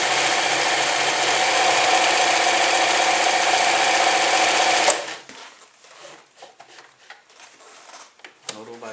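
An Elna 393 semi-industrial sewing machine stitches at a fine 0.7 stitch length, a loud, dense, steady mechanical whir for about five seconds. It stops abruptly, leaving faint clicks and handling noises.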